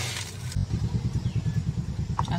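An electric mixer grinder powders cooled whole spices for a mango pickle, giving a steady motor drone with a rapid, pulsing low clatter that runs loud and continuous throughout.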